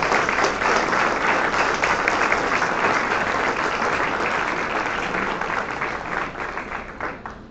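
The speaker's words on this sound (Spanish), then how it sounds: "Y ese aplauso para el Rey, el merece el honor" A church congregation gives a long burst of applause at a Sunday service, dense and steady at first and then slowly thinning out toward the end, with faint voices mixed in.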